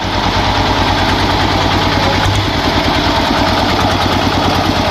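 A loud eight-cylinder engine idles close by, a steady, dense rumble with a slight wobble midway and no voices over it.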